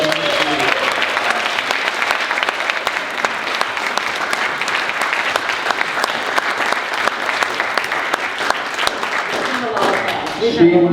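A seated audience at a museum founders' presentation during the Western Visions 2018 event breaks into loud, sustained applause honoring 27 years of service, dense steady clapping that fades out near the end.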